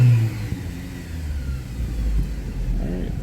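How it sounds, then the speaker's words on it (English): A GMC truck engine with a freshly redone head gasket takes a wide-open snap throttle, rising into a loud, close revving rumble that holds, then falls back as the pedal is released at fuel cutoff. "So the only thing I do is do a snap throttle, wide open, and release the pedal once it hit the fuel cutoff."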